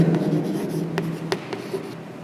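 A short burst of writing during a sixth-grade maths class: a few light scratching strokes and taps, close by, over a low steady room hum.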